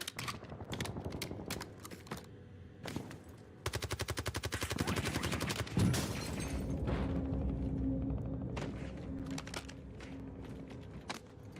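Video game gunfire during a live gaming stream: rapid bursts of automatic fire mixed with single sharp shots, one long sustained volley in the middle, loud and close over a background of game sounds.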